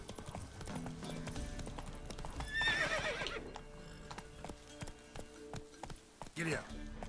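Roach the horse gallops in a video game with rhythmic, steady hoofbeat clatter and a brief neigh partway through, with a voice heard faintly alongside.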